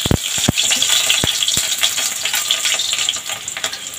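Roughly chopped onions hitting a pan with crackling cumin for makhani dal, a loud close sizzle with sharp clatters of stirring early on, settling into a steady hiss, no voices.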